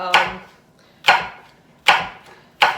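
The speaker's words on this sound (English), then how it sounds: "let's just chop up our apple with the skin on" A knife chops through an apple with the skin on against a cutting board, four crisp, evenly spaced thuds, each with a short crunchy tail, close and clear without talk.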